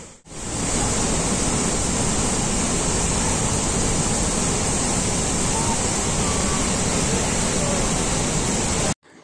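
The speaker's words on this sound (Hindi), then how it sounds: "एक तरफ से पानी आता है तो दूसरी तरफ सुरंग के अंदर पानी चला जाता है।" Davis Falls in Pokhara, Nepal, where water pours down and rushes into a tunnel, heard as a loud, continuous broadband roar that holds steady from start to finish and cuts off abruptly at the end.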